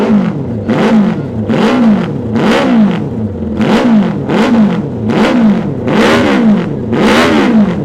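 An MV-style vintage motorcycle engine, a replica of the classic Italian make, revs repeatedly in steady waves, each blip climbing and falling in pitch, loud and close with no voices.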